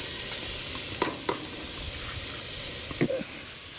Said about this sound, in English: we're gonna go ahead and put some peppers and onions in here to saute them up a little bit first